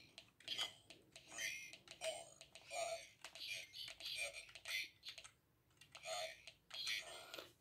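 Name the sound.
typing on a USB or PS2 keypad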